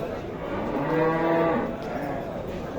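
A cow at a livestock market lows in one drawn-out, fairly close moo that rises and falls over about a second, set against steady crowd and market bustle.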